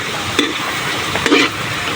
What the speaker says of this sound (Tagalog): Kanya po muna igigisa yung mga gulay.